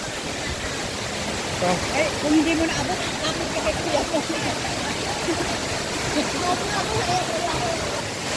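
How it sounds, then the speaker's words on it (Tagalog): Encanto Falls at a resort pours in a steady, broadband rush of falling water that continues throughout while people chat nearby over it. "Ang ganda ng Encanto Falls."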